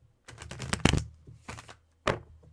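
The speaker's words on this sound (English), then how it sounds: "One more good shuffle." A deck of playing cards being shuffled in a few quick bursts of riffling and snapping, close by, with brief pauses between them and no talk.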